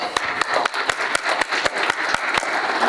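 Summit audience in Nashik applauds steadily, a dense wash of many hands clapping with sharp individual claps popping out, loud and close throughout.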